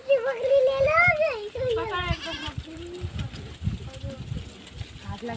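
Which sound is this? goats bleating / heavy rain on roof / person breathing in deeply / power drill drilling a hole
goats bleating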